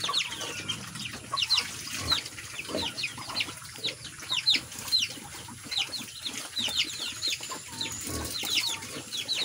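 Chickens cluck in quick, scattered bursts amid rustling and flapping, moderately close, with a busy outdoor farmyard background and no clear talk.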